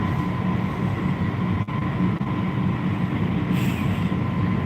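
Steady, loud rumble of a fast passenger train heard from inside a carriage while it speeds past small stations through farm country, with a constant roar and a couple of brief clunks.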